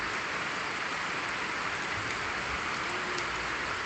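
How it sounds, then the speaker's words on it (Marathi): Steady rain falls over a village, a continuous dense hiss of drops with no breaks, fairly loud and even throughout, with no voices. "गावाला खूप छान असा पाऊस पडत आहे"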